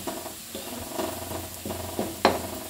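Spices with coriander powder are stirred in a hot pan, a soft sizzle broken by a few scraping strokes and one sharper clink near the end; brief and fairly quiet, without speech.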